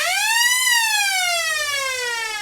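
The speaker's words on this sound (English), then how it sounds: "We'll just wait for that siren to go away, mate." A passing emergency-vehicle siren outside a rugby league ground, one loud rising-then-falling wail sounding alone and dropping in pitch as it moves away.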